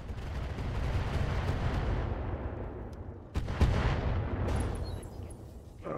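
Heavy mech weapons fire booms and rumbles in RogueTech, a BattleTech game, during an urban battle: a sustained roaring barrage followed by a sharp loud blast and further rumbling, with no voices.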